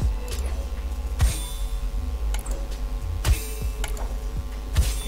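A Fortnite pickaxe swung repeatedly in the game, giving sharp metallic impacts roughly every second to two seconds over constant background game noise, with smaller ticking clicks between hits.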